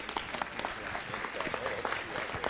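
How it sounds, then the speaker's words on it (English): An audience at a city council meeting applauds with steady, moderately loud clapping that lasts the whole moment, crowd-like and unbroken. "Give them a great big round of applause."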